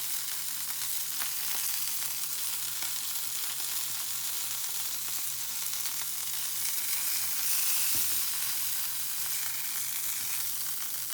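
Steak sears in a hot pan after being flipped, a steady close sizzle and crackle running unbroken throughout with no voices.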